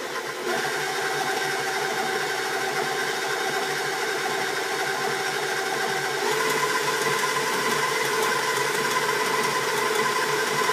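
An electric mixer beats cake batter with a steady, close, continuous motor whir that stays level and picks up a little in pitch partway through when the speed goes up.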